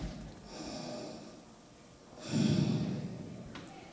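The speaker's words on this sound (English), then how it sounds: "Just breathing" Slow, audible breathing during a guided relaxation: a long, soft exhale, a pause, then a deeper, heavier breath with an airy, close-up rush, heard alone with no talking.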